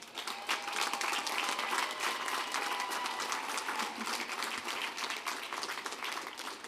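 Sustained, dense applause fills a commencement hall as the audience claps for newly graduated doctors, a steady roar of many hands with no speech over it.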